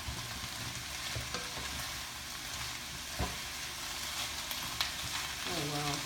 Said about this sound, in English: just continue to stir